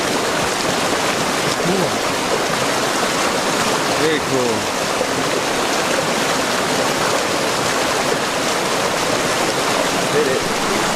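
A Sierra river in California flows in a steady, loud rushing wash of water, continuous and close, with brief voices speaking over it.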